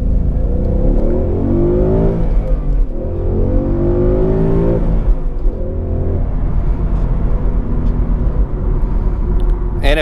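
A 2017 Ford Mustang GT California Special Convertible driving, its V8 engine rumbling loud and close as it revs and shifts through rising and falling pulls, with wind noise over the top.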